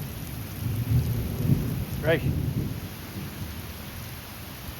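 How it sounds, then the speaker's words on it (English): Rain falling steadily during a thunderstorm in western North Carolina, with low thunder rumbling from a big lightning bolt nearby; a man briefly exclaims over the constant downpour hiss. "Serious bolt of lightning just hit over there."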